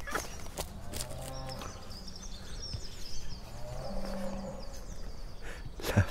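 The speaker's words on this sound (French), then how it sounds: "La vache." A cow moos twice in a long, low drawn-out call, heard fairly near over an outdoor farm background with faint bird chirps.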